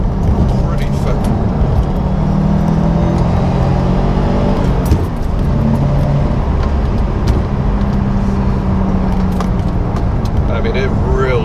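Steady engine drone from a 2019 Subaru WRX STI heard from inside the cabin while cornering fast, loud and continuous with a person talking over it.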